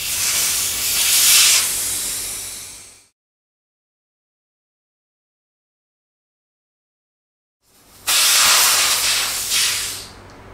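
Air hissing out of a motorcycle tire as its valve cores are removed: two loud, close bursts of steady hiss, each lasting a few seconds, separated by a long silent gap.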